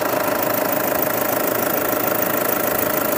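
Diesel engine of a 2013/2014 Toyota Fortuner TRD VNT G automatic running steadily at idle, a loud, constant rumbling hum with a light knocking texture, close by and without talk.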